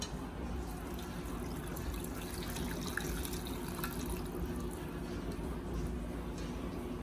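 Chicken broth poured from a cooking pot into another vessel in a home kitchen, a steady close liquid pour and trickle running continuously throughout without talk.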